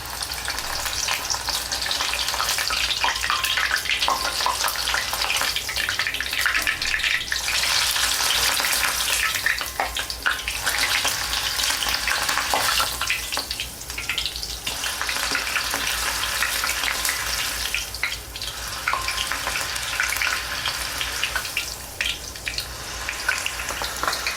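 Slit green chillies frying in hot oil for Mumbai-style vada pav, a loud continuous crackling sizzle with occasional stirring, steady and close for the whole stretch.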